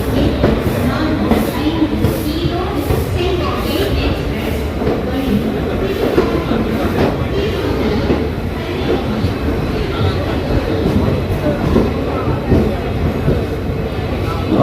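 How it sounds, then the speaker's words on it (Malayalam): A passenger train pulls out of Madurai Junction ten minutes late, its carriages rumbling and clattering loudly and steadily close by, with wheel noise throughout. "5:54, 10 മിനിറ്റ് ഡിലേ ആയിട്ട് ട്രെയിൻ എടുത്തു"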